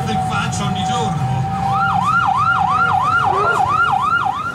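A police siren wails in a steady rising-and-falling cycle over busy street noise in the town of Alberobello, loud and close for most of the stretch.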